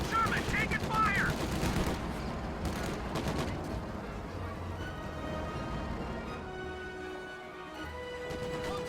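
Gunfire on a Sherman tank in a video game: quick bursts of rapid shots and impacts, loudest at the start, then thinning out into a quieter mix of game noise and a low hum.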